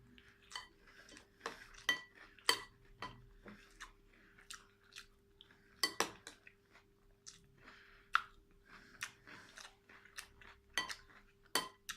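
Someone chews a mouthful of Lion cereal soaked in milk up close, making quiet, irregular wet crunches and soft clicks with short pauses between bites.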